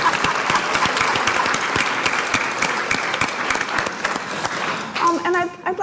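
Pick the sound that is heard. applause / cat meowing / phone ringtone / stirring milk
applause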